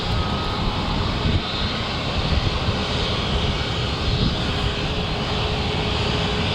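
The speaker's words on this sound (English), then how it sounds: "on the runway now we've got Ryanair 737 MAX 8-200 going to Murcia" Ryanair Boeing 737 MAX 8-200 jet on the runway at Manchester Airport, its engines producing a steady, broad roar that holds at an even loudness throughout.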